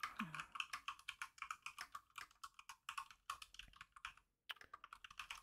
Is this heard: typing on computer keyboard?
yes